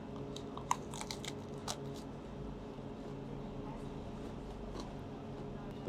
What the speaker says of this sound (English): The crunch of that French stick